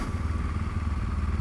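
A BMW R1200 GSA adventure motorcycle idles just before shutdown, a close, steady low thrumming beat with a faint mechanical clatter over it.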